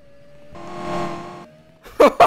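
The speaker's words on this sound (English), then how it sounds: "The supercharger whine just like cutting in and out" Supercharged C7 Corvette in a Roblox game: a thin steady whine swells and fades over about a second, then two short loud bursts close up, with no talk.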